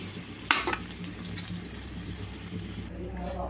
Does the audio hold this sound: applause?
no